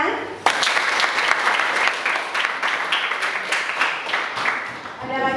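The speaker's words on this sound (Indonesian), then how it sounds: "Oke, beri tepuk tangan." A classroom of students applauding, dense steady clapping from many hands throughout, with a few voices underneath.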